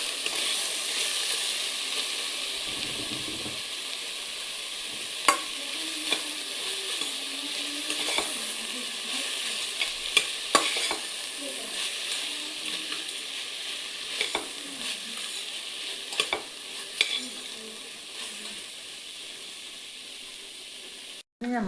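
Fried rice mixture stirred and sizzling in a pan, a steady frying hiss with scattered scraping clicks from the utensil running throughout.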